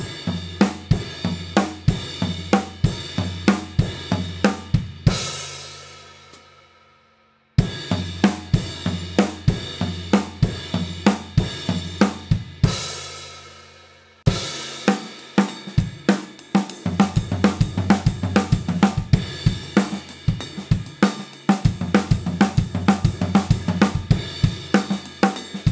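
Drum kit playing 16th-note fills that sweep from the right cymbal down to the floor tom, answered by heavy left-hand hits, in repeated bursts with brief ring-out gaps between, loud and close with no talking.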